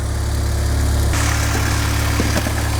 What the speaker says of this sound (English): we're then going to adjust the idle screw until the engine's idling nicely